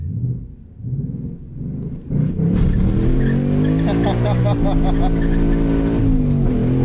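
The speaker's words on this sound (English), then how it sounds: "We'll just do a little smoky start." A Mustang Mach 1 engine revs low, then roars into a hard, smoky launch with a sustained tire squeal and rising engine note, loud and close.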